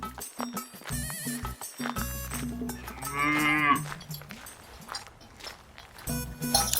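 A buffalo moos in a cartoon farm scene, a drawn-out low call that rises midway, with other voices and sounds around it.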